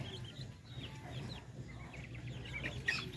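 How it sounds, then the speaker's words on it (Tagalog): Two-month-old native Darag chickens cluck and chirp softly in a pen, with a few brief higher calls over a low steady background hum. "ito yung ating mga darag na 2 months old mga Pinoy"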